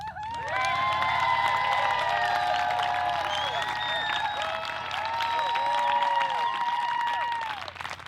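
An audience at a religious science minister's ordination ceremony breaks into loud, sustained applause, with cheers and high whoops rising above the clapping throughout.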